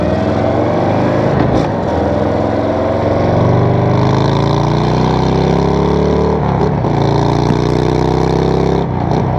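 A Harley-Davidson Fat Bob motorcycle engine runs with no exhaust system fitted, giving a steady, somewhat muted idle and rumble with slight revs, loud and close throughout with no talk.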